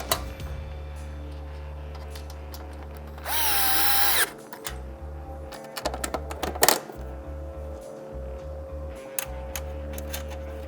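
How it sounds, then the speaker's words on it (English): A power drill drives and tightens bolts on Polaris Ranger XD1500 underseat storage boxes, with one long, loud whirring burst followed by short trigger pulls and clicking, clattering handling noises, close by and with no talk. "we want to tighten these first because the middle one is a little bit hard to access"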